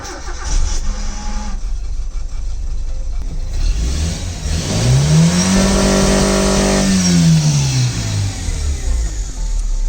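A Volvo 340 engine fitted with an OMEX hard-cut rev limiter idles, then revs up sharply and winds back down. The rising and falling roar is close and loud.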